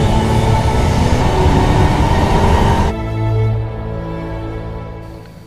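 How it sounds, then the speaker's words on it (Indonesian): A Hayabusa bullet train pulls away, a loud broadband rush of rolling wheels and air that drops off midway, leaving a softer steady hum with faint tonal lines. "Semua gerbong terisi penuh dan kereta pun berangkat"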